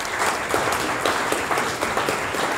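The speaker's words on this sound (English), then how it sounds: "Please give a round of applause to everybody" Audience at a Honiton environment and climate change hustings applauding the panel, steady moderately loud clapping from a modest crowd with individual claps audible.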